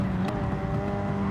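A Hyundai Elantra TCR touring car races at Watkins Glen in Gran Turismo 7, its engine giving a steady, loud droning note held throughout the short stretch.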